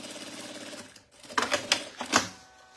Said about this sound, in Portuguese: Então, direito com direito e a gente faz a costura.